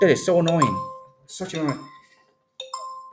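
A short bright delivery app order notification chime sounds twice, clear and near, between bursts of a person talking in an irritated tone.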